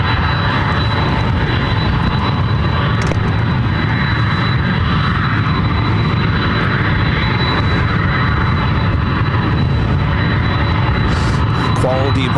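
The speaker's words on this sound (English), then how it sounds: "coming up from Boise, a 757-200 freighter" A Boeing 757-200 freighter arriving at Ontario airport in California makes a continuous, loud jet engine rumble that stays steady from start to end, with a voice faintly under it.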